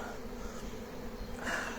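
A honeybee swarm buzzes steadily around a beehive baited with lemongrass, a dense, continuous droning hum of many bees close by, with no voices.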